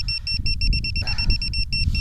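Low, rumbling wind buffets the microphone throughout during outdoor metal detecting in Mazowieckie, Poland, with a rapid pattern of high electronic beeps sounding over it.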